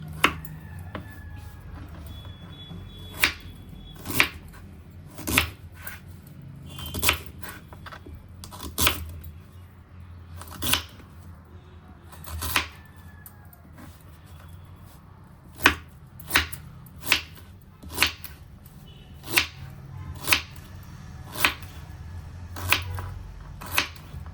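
Sharp knife chops raw mango on a board, about twenty distinct strikes in irregular bursts over a low steady background hum, with no talking.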